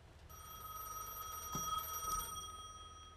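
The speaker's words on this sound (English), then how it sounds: "Answer the phone." A telephone rings steadily in the Gas Station Simulator video game, its tones repeating for about three seconds at moderate loudness with no one speaking.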